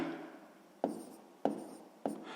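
Hand writing during a Ukrainian sixth-grade math lesson: a faint scratchy rub of pen on paper, broken by three sharp strokes at a steady pace, with no talk over it.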